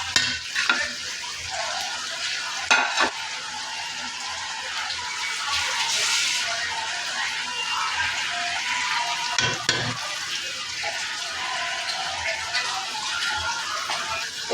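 Chillies frying in oil in a pan for pointed gourd bharta make a steady, bright close sizzle throughout, broken by a few sharp utensil knocks and stirring scrapes, with a brief louder hiss flare partway through.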